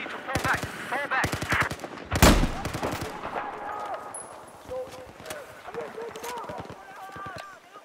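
Bursts of rifle and machine-gun fire in the Battlefield 4 video game at Guilin Peaks, some shots close and sharp, others scattered and more distant, ringing out under a voice talking throughout.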